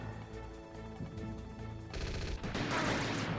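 Enemy gunfire in Metal Gear Solid, a quiet patter of shots that suddenly swells into a loud, dense burst of rapid automatic fire in the last second and a half.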